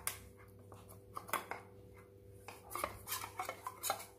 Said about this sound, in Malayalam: ഈ കസ്റ്റാർഡ് പൗഡർ ഒന്ന് പാലിൽ കലക്കി വെക്കാം.